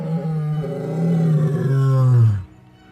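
A male lion in the Sabi Sand reserve gives one deep, loud, close roar that swells for about two seconds and then drops off abruptly, with nothing else around it.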